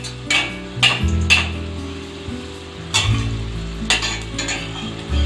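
Egg and potato paratha fries in hot oil in a wok over medium heat, giving a steady close sizzle with a few louder bursts and light clinks of a utensil.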